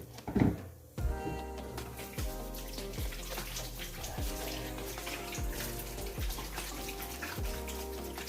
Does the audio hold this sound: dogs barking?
no